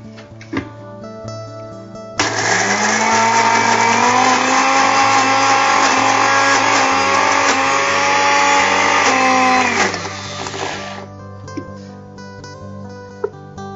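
A mixer grinder grinds soaked moong dal into batter for thavalai vadai, a loud, steady whirring roar that starts abruptly, holds for about eight seconds and then cuts off, with low hum before and after.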